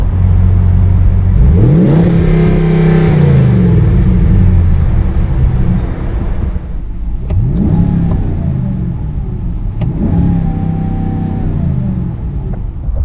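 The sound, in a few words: pickup truck engine revving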